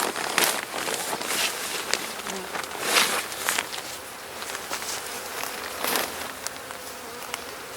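Honeybees buzzing around an opened hive as its winter wrap is removed, a continuous droning hum with a few louder passes close by, plus light handling noises.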